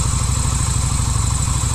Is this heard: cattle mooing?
no